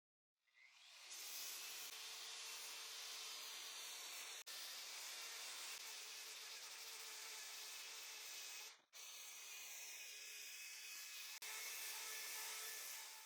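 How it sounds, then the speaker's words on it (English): A polisher fitted with 100 grit sandpaper sands a wood surface repurposed into a new piece, giving a steady loud broadband whir that runs nearly continuously with two brief dropouts as the tool lifts or shifts. "Now I'm sanding using a polisher with 100 grit sandpaper."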